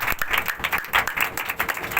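A church congregation applauding loudly at a worship service, dense steady clapping filling the space without a break.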